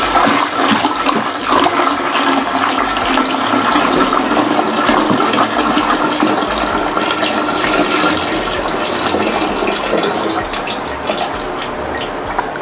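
Five liters of 12% white spirit vinegar pour steadily into a container for a pickling brine, a loud continuous gushing, splashing stream with no talk.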